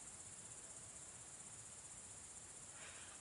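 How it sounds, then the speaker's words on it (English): Crickets in the Polish countryside give a faint, high, continuous trill, steady and unbroken from start to end with no voices over it. "So can you hear this crickets?"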